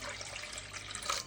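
Water is poured into a summer buttermilk (mattha) mixture made with 400 grams of yogurt, giving a brief, faint trickling splash of liquid with no voices.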